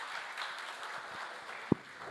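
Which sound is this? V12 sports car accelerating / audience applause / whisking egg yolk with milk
audience applause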